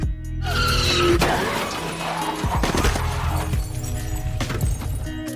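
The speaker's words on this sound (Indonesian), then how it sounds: "Film dimulai dengan aksi kejar-kejaran John menggunakan sebuah mobil." A car chase from the 2017 film John Wick: Chapter 2 fills the scene with loud, dense engine roar, screeching tire skids and sharp crashing impacts in quick succession.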